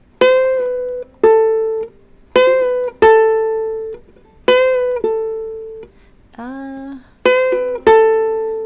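A clean guitar plays short repeated phrases of ringing notes, and in one phrase a note bends upward in pitch, clear and close with brief gaps.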